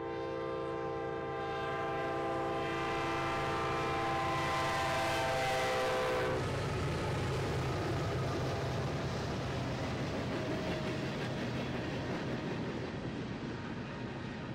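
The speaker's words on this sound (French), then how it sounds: "Tu les entends arriver, écoute le klaxon." A train arrives with a loud, sustained, harmonic horn blast lasting several seconds. The heavy rumble and clatter of the rolling train carry on after the horn stops.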